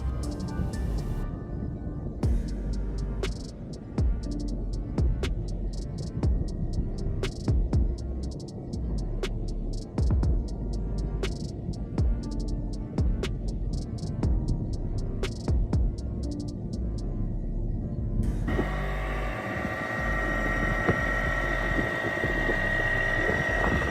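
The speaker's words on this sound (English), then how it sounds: "one of the first things that I noticed hopping back on the boat with the outboard with the new aluminum prop installed is it does sound a little bit different" Electric outboard boat motor fitted with a new aluminum propeller, running with a steady low hum and rhythmic throbbing pulses, close and continuous, the tone shifting slightly toward the end.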